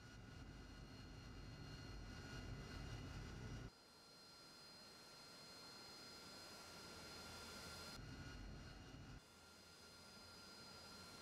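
An AV-8B Harrier jet engine in the DCS World flight game, a continuous broadband roar and whine that shifts character abruptly a few times as the view or throttle changes, steady and without talk.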